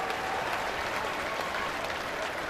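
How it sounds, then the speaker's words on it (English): Baltimore Orioles fans at a baseball game against the Athletics applaud in a steady, dense wash of clapping from a large stadium crowd. "The Oriole fans are applauding"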